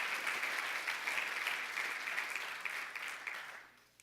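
Congregation in a church applauding the Lord, a dense burst of clapping that holds steady and then fades out over a few seconds.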